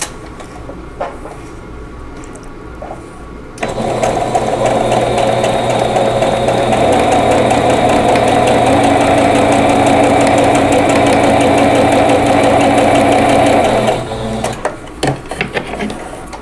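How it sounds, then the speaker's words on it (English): A sewing machine stitches a quilt block, running in one steady continuous burst of about ten seconds with quieter handling sounds before and after. "I'm going to sew directly on that line."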